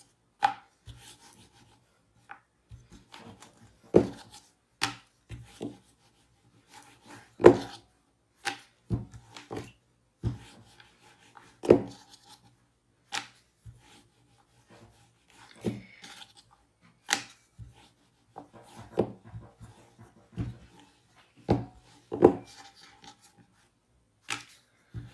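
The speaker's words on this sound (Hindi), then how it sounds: "बेलन लेंगे और इसको बेलना शुरू करते हैं।" Rolling pin working small rounds of samosa dough on a board, giving irregular knocks and rolling thumps with quiet gaps between them, close and clear with no talking.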